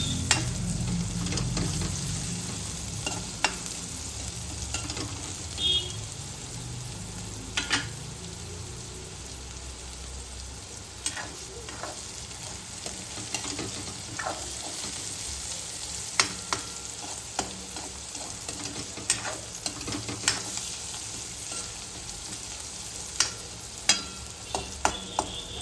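Onions and carrots fry and get stirred in a pan for vegetable Hakka noodles, giving a steady close sizzle broken by frequent scraping and clattering stirs, with no voices.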